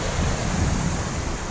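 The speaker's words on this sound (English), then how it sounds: "by little waterfalls and rapids" Small waterfalls and river rapids along a forest hiking trail, a steady, full rushing of water with a constant broad roar and no other sounds.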